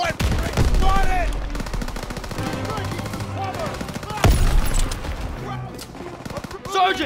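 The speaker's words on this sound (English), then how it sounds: "Everyone, open fire!" Rapid machine-gun and rifle fire in the World War II shooter Call of Duty WW2, bursts rattling continuously with heavy blasts, while soldiers shout over the battle.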